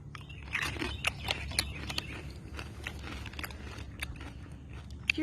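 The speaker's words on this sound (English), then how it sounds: "You're chewing while you're videoing." Someone chews food close to the microphone, with repeated crunchy bites and wet mastication in an uneven rhythm over low background rumble and no talking.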